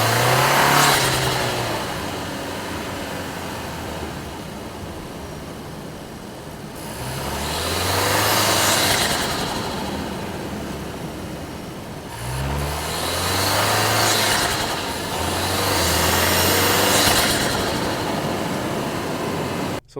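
A 2024 Toyota Tacoma engine with its stock air intake, heard from a mic inside the engine bay: loud, close engine roar that swells through several rev-ups and settles back between them, with no talking.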